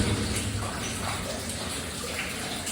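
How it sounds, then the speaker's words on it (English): Water pours steadily out of an old mine adit, a dense, continuous rushing and splashing heard close and fairly loud, with no talk over it. "A lot of water coming out of this place."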